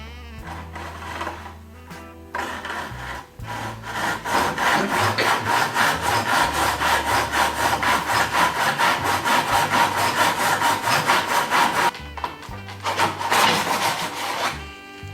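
A hand saw cuts through wood moulding held firmly against the bottom and side of a miter box, steady rhythmic back-and-forth strokes running loud and close, with a few short pauses before the stroking resumes.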